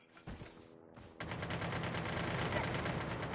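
Gunfire in a video game: a few sharp shots come first, then after a short gap dense rapid automatic fire rattles on continuously, moderately loud, with no voice.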